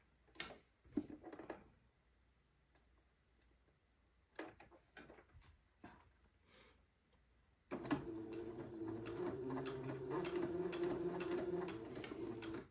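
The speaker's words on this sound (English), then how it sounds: "And then I will top stitch 1/8 of an inch away from the edge." A sewing machine topstitches a seam one-eighth inch from the edge on a white button-on suit. Soft clicks and handling noises come first, then a steady, humming machine run continues close by to the end.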